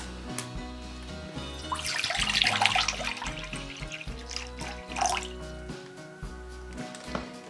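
Water is poured into a container holding dry Orbeez water beads, a steady splashing trickle that rises in the middle, heard beneath prominent background music.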